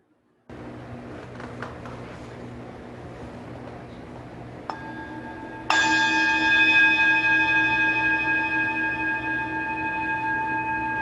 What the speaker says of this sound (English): follow the sound of the bell into silence